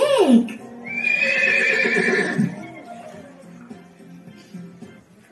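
A big farm horse whinnies in one long, loud call that falls in pitch and trails off after about two seconds, leaving a quiet, low background.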